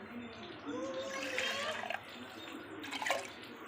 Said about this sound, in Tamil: சட்டி எடுத்து அதில் புளி தண்ணி ஊற்றிடுவோம்